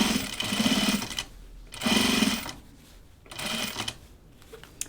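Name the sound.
sewing machine stitching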